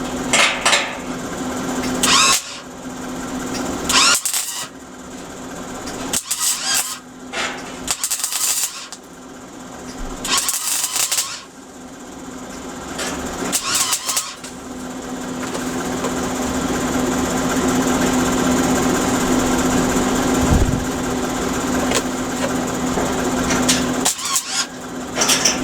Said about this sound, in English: Literally burning holes in it. Turn the welder down a bit.